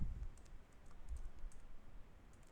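Faint, quick keystrokes on a computer keyboard while Java code is written, a light irregular patter of clicks over low room hum.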